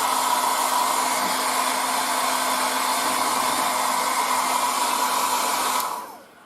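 A hair dryer blows steadily on a 1:35 Trumpeter E-50 Standardpanzer model kit during painting, a loud close whir with a constant hum that runs unbroken before it cuts off and spins down near the end.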